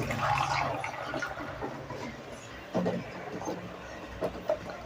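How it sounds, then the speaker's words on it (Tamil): Water pours into a pan of cauliflower and potato gravy cooking with coconut, a gurgling splash that trails off into softer sloshing and a few clinks near the end. "இப்போ கொஞ்சம் தண்ணியை ஊற்றிக்கலாம்."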